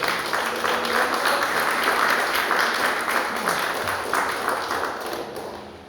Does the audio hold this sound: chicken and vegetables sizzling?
no